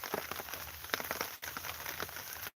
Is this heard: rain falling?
yes